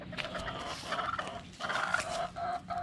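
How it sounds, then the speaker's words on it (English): Farm chickens clucking and calling in a busy overlapping chorus, fairly close, with a steady background hum and no talking. "Lovely chickens here."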